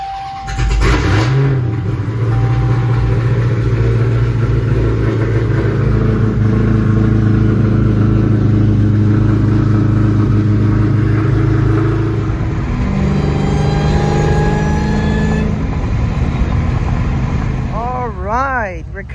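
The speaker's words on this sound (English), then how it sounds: "get in the Hellcat and take it to the track" A Dodge Hellcat's engine starts and idles with a deep, loud rumble, holding a steady drone before the pitch climbs and falls as it revs and pulls away, with brief chirping sounds near the end.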